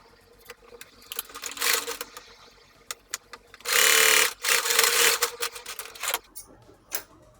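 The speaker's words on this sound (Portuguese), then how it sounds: "Estou fazendo uma costura francesa, né?" Sewing machine stitching a French seam on the right side of a fabric pencil case, running in several bursts with a long loud stretch midway and brief pauses between runs.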